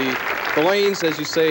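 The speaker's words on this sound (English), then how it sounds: "As you can hear the crowd behind me" A crowd applauds at a 1979 professional bowling tournament final, a broad, steady wash of clapping heard beneath someone speaking close to the microphone.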